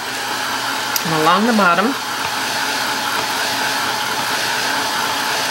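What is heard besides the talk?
hair dryer drying acrylic paint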